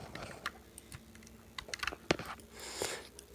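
Quick, light keystrokes tap irregularly on a computer keyboard while a password is entered, with faint scattered clicks close by and no talking.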